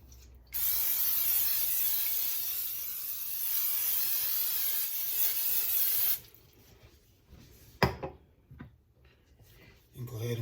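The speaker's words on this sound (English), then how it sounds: "So we'll spray the pan" Vegetable oil cooking spray hisses onto a pan in one steady burst lasting several seconds, loud and close, followed by quieter kitchen clatter.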